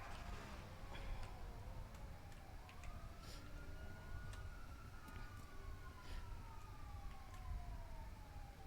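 An emergency vehicle siren wails in the distance, its rising and falling tone sweeping slowly over a steady noisy background, faint and continuous with faint ticking and no talking.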